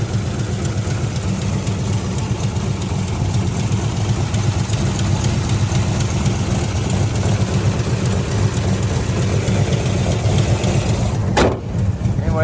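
A 1969 Pontiac GTO V8 idles with a steady, low rumble close by, a constant throbbing drone that holds for about twelve seconds.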